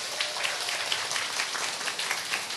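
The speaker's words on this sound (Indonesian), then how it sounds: "Tepuk tangan untuk panitia." An audience at a religious lecture event applauds the organizing committee with sustained, close, bright clapping from many hands for the whole clip.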